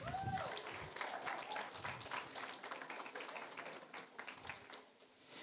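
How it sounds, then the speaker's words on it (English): Wedding reception guests clapping for themselves, a fairly quiet, uneven patter of hands with distinct individual claps, fading a little near the end. "I think you should give yourselves a round of applause"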